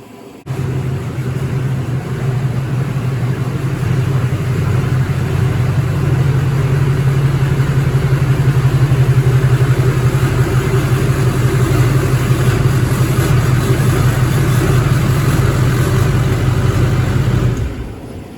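A Duramax diesel pickup truck engine runs steadily as the truck is driven into a shop, a loud continuous low rumble holding for most of the stretch before cutting off at the end, with no talk.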